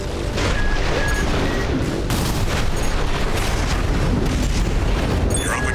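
Heavy artillery fire in Armored Core VI: a dense, continuous rumble of booms and blasts filling the whole stretch at steady loudness, with bursts overlapping so that no single shot stands apart.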